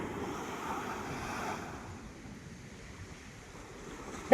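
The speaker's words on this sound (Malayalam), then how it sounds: "ഒരുപാട് കടൽ ഇറങ്ങി കിടക്കുകയാണ്" Sea waves wash in at Kollam beach in Kerala, a soft, steady surf with light wind over the microphone, fairly distant and unbroken by voices.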